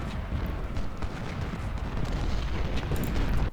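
Civil War cannon fire in the strategy game Ultimate General: Civil War at Saunders Farm, a dense, continuous rumble of distant artillery and battle noise with no clear single shots.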